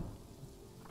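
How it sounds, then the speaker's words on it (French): Steady rain with a deep rumble of thunder beneath it, a continuous wash of sound in the zoo-building game Planet Zoo, moderately quiet and without talk. "Oh il pleut."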